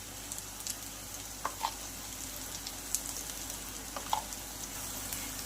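Spices and oil sizzle steadily for an egg curry masala, a soft continuous frying hiss with a few faint clinks of stirring, close and quiet.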